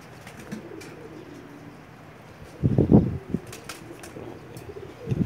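A Pakistani pigeon pair coos in a low, throaty burst at close range over a steady background hum, with a second brief coo at the end.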